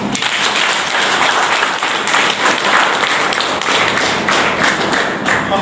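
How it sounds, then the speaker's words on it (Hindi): Loud, dense applause from a village audience honouring household members at a rural Oraon community gathering, steady broadband clapping sustained throughout without pause. "इनके लिए जोरदार ताली"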